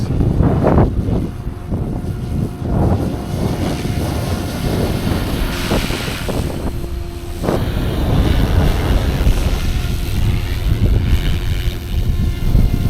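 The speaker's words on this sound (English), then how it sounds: "Great helicopter, great helicopter." A SAB Goblin Raw 500 radio-controlled helicopter's small engine whines steadily overhead with whooshing rotor noise and gusts of wind across the microphone, loud and continuous.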